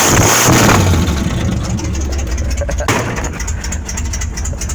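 A truck engine with a lumpy cam idles close by, a rough, loping low rumble that pulses unevenly with a brief sharp blip partway through, with no talking over it.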